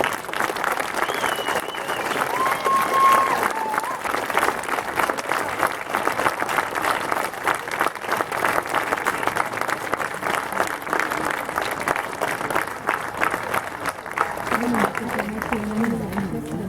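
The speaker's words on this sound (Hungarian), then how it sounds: "a Rúzsai Csürdöngölön Néptánc Együttes egy hatalmas tapsot érdemel a mai estéért" An audience at an evening folk dance performance by the Rúzsai Csürdöngölön ensemble claps in sustained, dense applause, with crowd murmur mixed in. The clapping stays steady throughout and a voice rises briefly near the end.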